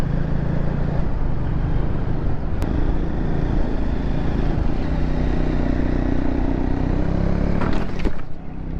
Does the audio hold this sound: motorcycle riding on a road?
yes